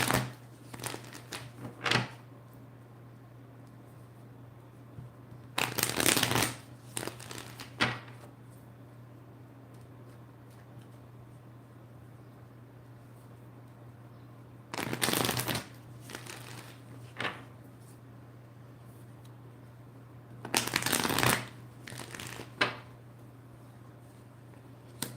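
Tarot cards being shuffled in repeated bursts of loud, close riffling, with quieter card slides and taps between them. No one speaks.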